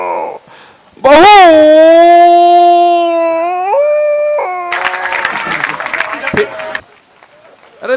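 At a Hindi poetry recital, a performer's long, wavering vocal howl imitates a dog, then a burst of audience clapping follows for a couple of seconds before fading out.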